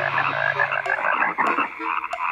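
Many frogs croak together in a dense, continuous chorus, loud and close, from a 1997 film of The Ten Commandments, with brief sharper croaks rising above the steady mass.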